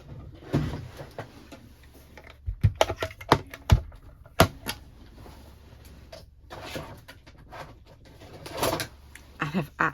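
Brand-new cutting plates on a mini die-cutting and embossing machine crack sharply as they pass through, giving a cluster of loud snapping clicks mid-clip and more scattered cracks later, under quiet background noise.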